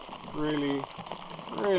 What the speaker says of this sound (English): rainy weather, as you can see